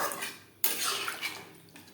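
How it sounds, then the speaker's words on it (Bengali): Water poured into a pan of spiced, well-fried potatoes for a fish roe curry, a sudden broadband splash and rush that starts abruptly and runs steadily for over a second, close and fairly loud, with no talk. "এই পর্যায়ে দিয়ে দেবো জল"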